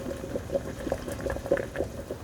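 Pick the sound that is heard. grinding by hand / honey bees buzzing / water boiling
water boiling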